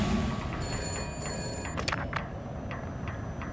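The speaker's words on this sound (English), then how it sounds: "This is the payphone." A payphone in the video game Shadows of Doubt rings with a bright electronic trill lasting about a second, followed by a few softer clicks and ticks, over a low steady background rumble.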